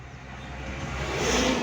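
Road traffic with vehicles passing by on a busy road, a steady broadband engine and tyre rush that slowly builds louder as a car approaches, with no talk.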